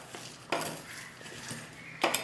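A spoon mixes crushed spices and chili powder into gooseberries for pickle, producing a few scraping clinks and stirring scuffs against the bowl over a couple of seconds, with no speech.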